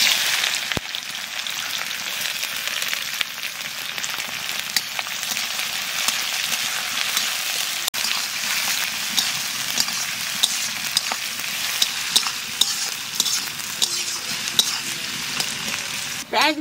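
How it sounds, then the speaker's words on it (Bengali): Onions frying in hot oil with cumin, cloves, cinnamon and cardamom, a steady close sizzle running throughout with occasional stirring scrapes. "পেঁয়াজ ভাজা হয়ে গেছে"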